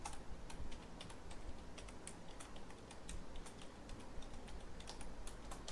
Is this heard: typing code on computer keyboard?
yes